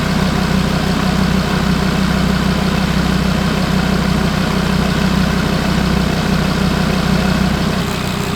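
An Audi RS3 DAZA engine idles loudly up close, giving a steady, low, throbbing hum with a constant rumble and no voices.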